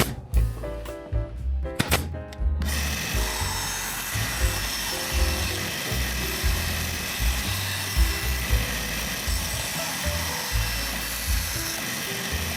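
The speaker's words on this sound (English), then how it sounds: "Cut it out on the bandsaw" A bandsaw cuts through a cedar fence plank, giving a loud, continuous buzzing whine with a rough, fluctuating grind after a few brief starts and stops at the beginning.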